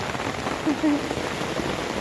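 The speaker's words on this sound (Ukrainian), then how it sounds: "Бачите, там такий дощ, як туман." Fine, misty rain falls steadily over a village, a soft, even hiss of drops on surfaces with no other clear sounds.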